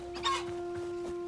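Chickens clucking in the Hytale video game, a few short clucks close together near the start and then quieter calls, heard over a steady game hum with no talk.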